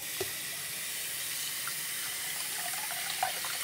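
Tap water runs steadily into a sink while a small cat with a skin problem is bathed, a close, continuous splashing flow with a few faint clinks and no talking.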